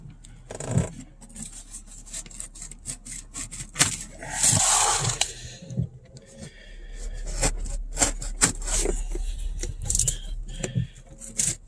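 A package holding a Honda crankshaft is opened up close, with scattered rustling, scraping and rubbing of packing material, a longer tearing burst in the middle and sharp handling clicks, no voices.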